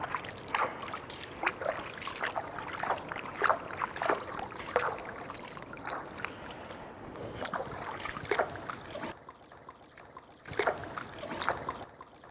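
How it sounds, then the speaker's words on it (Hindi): Water poured by hand and rubbed over the feet during ritual ablution washing, a continuous close splashing and trickling with irregular rubbing sounds, no talk. "पैर धोने में भी दाएं पैर को पहले धोएंगे, फिर बाएं पैर को, और उसमें भी दाएं हाथ से पानी डालेंगे और उल्टे हाथ से मलेंगे।"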